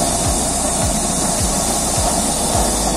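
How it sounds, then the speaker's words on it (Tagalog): Water boils over a loud, roaring used-oil stove flame, a constant hiss broken by soft, regular low thumps. "kumukulo na agad"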